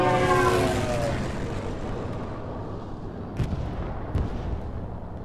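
A Stuka dive bomber attack in Hell Let Loose: a falling engine whine gives way to a deep, rumbling roar, then two sharp distant blasts.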